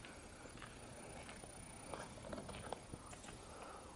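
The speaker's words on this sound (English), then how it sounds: "the sound of his footsteps echoing through the empty halls" Footsteps echoing through the empty halls of an old building, faint, steady treads under a dense noisy hiss, with no voices over them.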